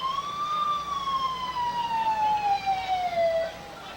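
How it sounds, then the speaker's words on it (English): A single wailing siren tone at a Christmas parade slowly rises and then glides downward, loud and continuous over a low traffic rumble. "you can always tell when you hear a siren"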